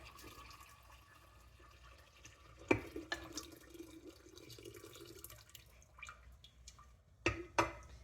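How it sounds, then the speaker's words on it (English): Ice water is poured into warm sweet tea brewed with family-sized tea bags for kombucha, a faint splashing trickle with a couple of louder sloshes and clinks near the end. "I'm just going to keep adding ice water until I get to a good temperature"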